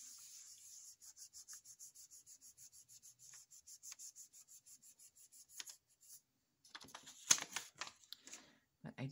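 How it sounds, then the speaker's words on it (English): Polymer clay burnished by hand, a quiet, rapid rhythmic rubbing of steady strokes, then a pause and a few louder scraping rubs near the end. "I'm going to burnish it one more time."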